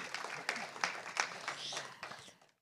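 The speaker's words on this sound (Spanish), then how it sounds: "¿aplaudimos?" An audience at a talk on local rural development routes claps in a short, faint round of applause with distinct claps that fade out after about two seconds.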